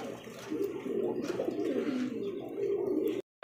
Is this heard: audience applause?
no